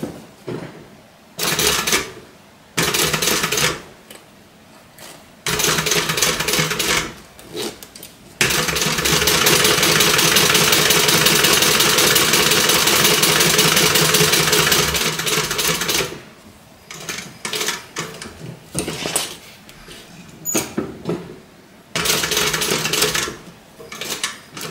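A sewing machine stitches around the inside of a small pocket square, running close in a few short bursts, then one long steady run of about eight seconds before stopping again.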